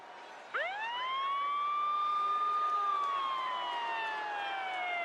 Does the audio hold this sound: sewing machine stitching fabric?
no